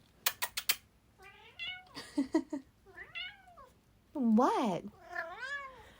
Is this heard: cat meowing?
yes